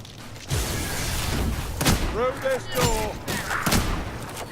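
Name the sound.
gunfire in video game Warhammer: Vermintide 2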